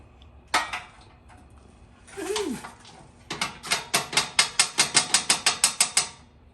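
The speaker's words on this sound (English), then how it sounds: "we could at least tap a hammer for them" Metal taps ring out, a few scattered ones first, then a quick steady run of about a dozen evenly spaced hammer strikes, close and bright.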